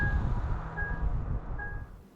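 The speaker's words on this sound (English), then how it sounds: "When backing up, a friendly chime alerts nearby pedestrians." A Ford Mustang Mach-E sounds its reversing chime for pedestrians while backing up: three short, clear high beeps spaced evenly apart over a low rumbling background, with no voices.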